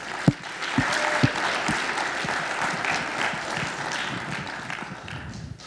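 A conference audience applauds sponsors at a tech event, steady clapping from a sizable crowd filling the room, with a few sharp louder claps near the start and a gradual fade.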